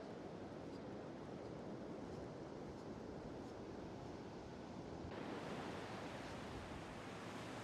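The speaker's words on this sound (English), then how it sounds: "Sea's a bit rougher this morning." Rough sea waves breaking along the North Yorkshire coast, a steady dense roar of surf with wind buffeting the microphone, swelling slightly louder toward the end with no voices.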